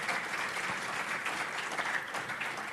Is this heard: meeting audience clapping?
yes